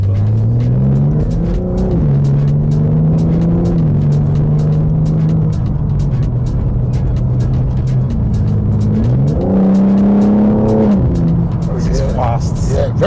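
BMW M4 accelerating hard on a road in Lagos, engine rumbling and rising in pitch through the gears with repeated revving surges, loud and close from inside the car, with occasional talk.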